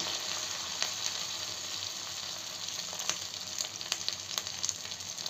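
Chicken pieces fry in a hot pan for a chicken dry fry, giving a steady, close sizzle with scattered sharp crackles and pops and no talking.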